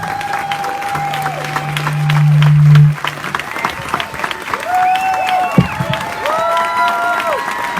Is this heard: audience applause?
yes